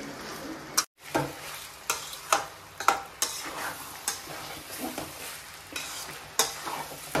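Mutton boti fries in a pan with ground coriander under a low, steady sizzle, and a spatula scrapes and knocks against the metal in regular strokes.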